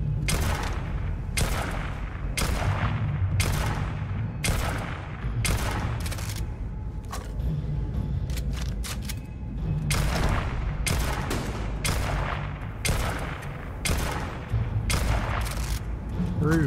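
Laser gun bursts in the space game Starfield, fired again and again in a steady rapid rhythm of sharp cracks over a dense, rumbling combat background.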